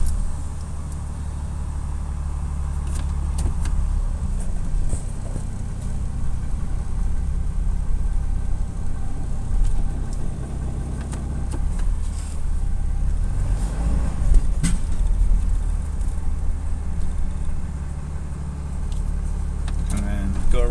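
A 2007 Ram pickup with a swapped-in 6.7 diesel engine drives around the block, its steady low rumble and road noise continuous throughout, with a person talking over it.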